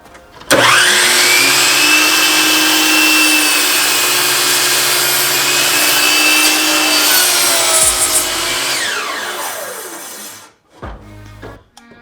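Power saw cutting through a wooden piece for a geometric Christmas tree, a loud sustained whining cut running about eight seconds, then the motor winding down with a short burst near the end.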